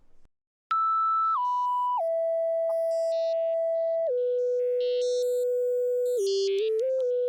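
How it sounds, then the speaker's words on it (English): Dry Serum synth lead from the VVS Pipe Starter X bank with no effects, a single pure tone stepping down through a slow descending melody in sustained held notes, loud and alone. "I used this pretty fun lead from VVS Pipe Starter X Serum Bank"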